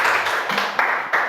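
An audience claps its hands at a class presentation in a short, dense burst of applause that fades after about a second.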